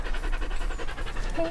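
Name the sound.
dog panting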